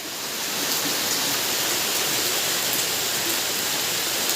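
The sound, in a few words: rain and water gushing at outdoor cooking spot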